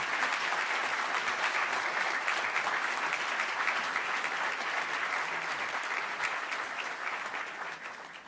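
Sustained applause from an audience congratulating an honoree at a Louisville Metro Council Black History Month program, dense steady clapping that fades slightly toward the end, with no talk over it.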